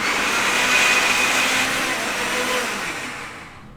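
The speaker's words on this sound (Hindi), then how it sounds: "थोड़ा पानी डाल के पीस लेते हैं।" A mixer grinder whirs steadily, grinding chutney with a little added water, loud and close with a continuous high-pitched motor roar that fades slightly toward the end; no talking.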